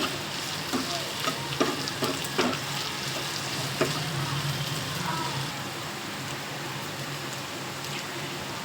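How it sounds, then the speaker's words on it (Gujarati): Turmeric, coriander-cumin powder and chili powder being mixed and fried on a low flame for a farali peanut khichadi, a steady soft sizzle with a few sharp spoon taps and scrapes early on. "બધા મસાલા નાખાઈ જાય પછી એને બરોબર ધીમા તાપે મિક્સ કરી લેવાનું."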